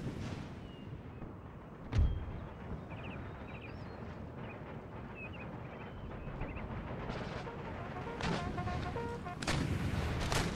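Artillery canister shot in the video game Empire: Total War, a sharp loud cannon report early on followed by scattered distant battle booms and clatter over a continuous rumbling backdrop.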